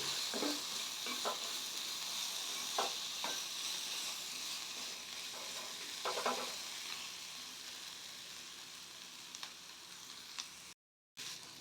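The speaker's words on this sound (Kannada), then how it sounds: "ನೋಡಿ ಇವಾಗ ಈರುಳ್ಳಿ ಇಷ್ಟು ಫ್ರೈ ಆಗಿದೆ" Onions frying in a pan for kachori filling, a steady close sizzle with occasional stirring scrapes and taps, fairly soft, ending with a brief gap.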